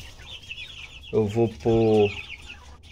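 Caged quail beside a small nest lets out two loud, close bursts of clucking, with faint speech and background noise around them.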